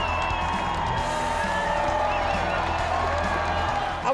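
Cheering and applause fill a room as an award winner from Haven Academy is honored at a school district all-stars recognition event, a continuous crowd roar with whoops and clapping throughout.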